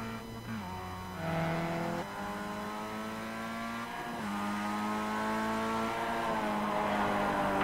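A Mazda MX-5 race car at Okayama circuit in a racing game climbs steadily through the gears, its engine whining higher with each gear and dropping briefly at shifts, heard clearly on its own from inside the car.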